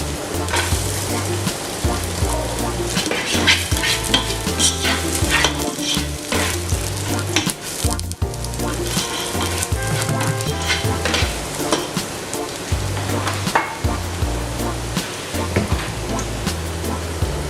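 Garlic fries in a pan for chicken biryani, giving a loud, continuous sizzle with scraping stirs throughout.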